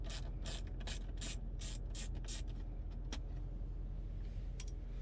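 A ratchet backing out two 7mm screws from a Ford Super Duty truck dash panel, a quick run of sharp clicking pawl bursts up close, then a few isolated clicks over a steady low hum.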